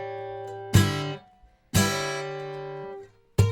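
Percussive acoustic guitar hits played with the strings left unmuted, so each of three sharp strikes rings out into a sustained, harmonically rich open-string chord that decays for about a second before the next hit.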